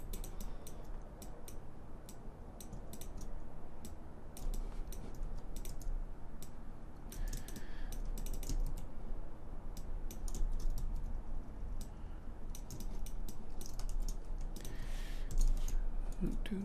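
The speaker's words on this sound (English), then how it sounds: "I'm just kind of using my keyboard to save me valuable time" Rapid clicking of computer keyboard keys in irregular bursts, close and fairly quiet over a steady low hum from a computer at a 3D modelling workstation.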